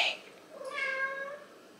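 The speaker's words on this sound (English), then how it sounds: "Uh-oh, we got a cat." A single drawn-out cat meow at close range indoors, rising and then fading over about a second, with a faint rustle just before it.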